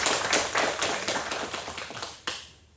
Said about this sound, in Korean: 박수 한번 하겠습니다.